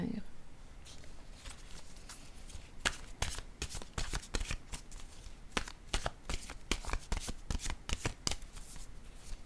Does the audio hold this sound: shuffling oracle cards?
yes